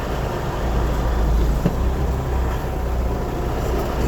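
An 18-wheeler tractor-trailer creeps forward during an air brake test, giving a steady low engine rumble with constant road-like noise throughout, close and even, with no talk.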